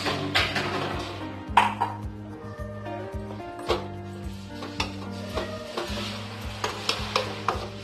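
Spoon scraping and clinking against a metal pan while sugar is stirred into banana stem curry with lentil dumplings, repeated knocks over a low cooking sizzle, with some background noise.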